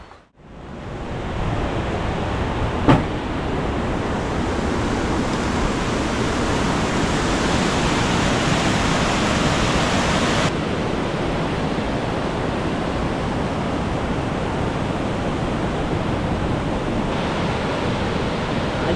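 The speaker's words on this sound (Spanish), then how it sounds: "Ya, y miren cómo está el río." A river in La Guásara swollen and flooded after heavy rains, a loud continuous broadband roar of rushing water, steady and unbroken for the whole span, with no speech.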